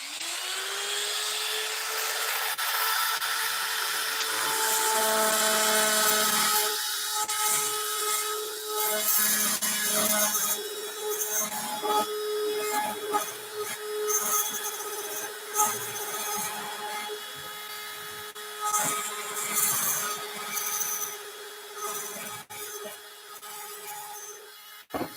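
A high-pitched rotary tool whines steadily while grinding and carving into wood, its pitch wavering as it bites, close and continuous.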